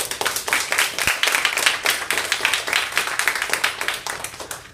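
A small audience claps after a classroom presentation, quick uneven hand claps running steadily throughout, fairly close and moderately loud, with no speech over them.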